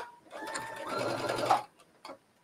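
Sewing machine stitching binding onto a bathing suit coverup, a close, steady whirring run of stitches lasting about a second and a half, then a short burst.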